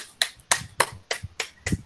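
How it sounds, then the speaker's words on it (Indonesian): A few quiet, evenly spaced claps for a student group's presentation in a classroom, six crisp separate smacks in a slow steady rhythm. "kita kasih tepuk tangan dulu untuk presentasi dari kelompok 1"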